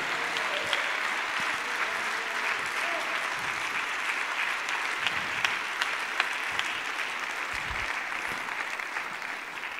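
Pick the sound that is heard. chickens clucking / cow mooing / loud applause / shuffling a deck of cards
loud applause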